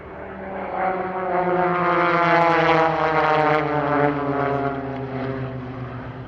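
Extra 300L aerobatic propeller plane performing at an Australian airshow, a loud sustained engine drone with strong harmonic tones that swells as it passes close, then eases slightly, with no talking.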